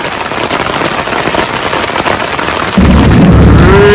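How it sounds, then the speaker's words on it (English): Heavy rain pours down during a flood, a dense, loud, continuous roar that grows heavier and deeper partway through, with no voices. "Rain."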